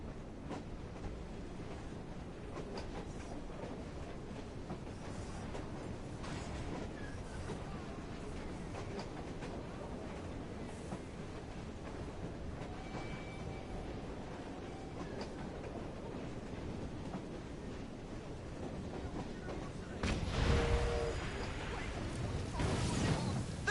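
Train carriages rolling steadily in Assassin's Creed Syndicate, a continuous low rumble and rattle throughout, swelling louder with a brief harsh burst near the end.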